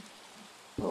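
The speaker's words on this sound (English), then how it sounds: "How is it raining again?" Rain falls steadily in the Minecraft video game, a soft even hiss over a brief moment that ends with a sudden louder burst.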